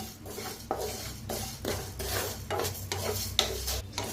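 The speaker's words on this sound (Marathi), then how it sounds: "त्याला बी भाजून घेऊया." Urad dal seeds are dry-roasted in a pan and stirred with a utensil. Rhythmic scraping and rattling strokes repeat several times against a faint hiss, close and steady, with no talking.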